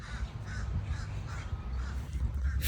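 Crows caw repeatedly outdoors, about five evenly spaced harsh calls at moderate distance over a low background rumble.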